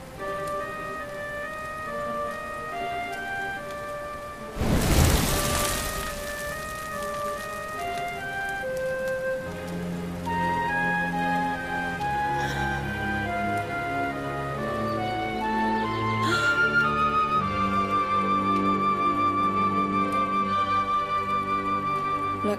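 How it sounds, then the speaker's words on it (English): Steady rain hisses in Dragon Quest XI with one loud thunder crack early on, all beneath continuous orchestral game music. "Looks like the rain's dying"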